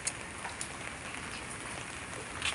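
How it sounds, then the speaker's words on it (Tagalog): Steady rain hissing on a surface, a dense even wash of drops with a few slightly louder splashes, no voices. "umuulan naman tayo"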